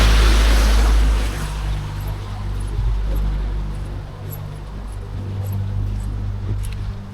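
Water rushes at the Mettur dam as a loud, continuous wash, with heavy wind buffeting the microphone at the start, then a steady surging roar that carries on throughout.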